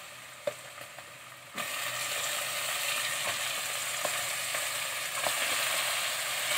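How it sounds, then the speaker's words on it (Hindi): Meat for Lahori-style palak gosht drops into a hot pan and bursts into a loud, steady sizzle after a few faint clinks, the frying hiss continuing strongly with occasional stirring scrapes. "अब हम इसमें गोश्त डाल देंगे।"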